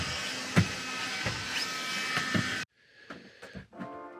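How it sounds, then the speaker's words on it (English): A handheld window vacuum cleaner whirs steadily at close range, with a high motor whine and occasional knocks, then cuts out abruptly and leaves faint clatter. "he's got his window hoover in his hand, he's very happy"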